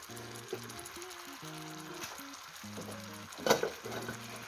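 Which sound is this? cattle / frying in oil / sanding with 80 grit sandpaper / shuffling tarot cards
frying in oil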